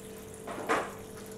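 A short gush of water poured into a pot of dried peas, rising briefly and fading within a second against a quiet room hum.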